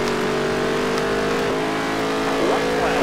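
A race car engine in NASCAR Heat 3, droning loudly and steadily at high revs with a slight pitch rise near the end, a continuous close roar under faint commentary.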